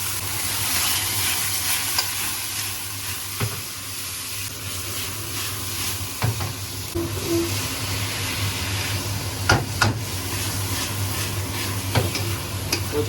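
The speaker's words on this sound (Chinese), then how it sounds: "再炒一炒" Carrots stir-fried with lard in a wok, a continuous loud sizzle and hiss with repeated spatula scrapes and clinks against the metal at irregular intervals.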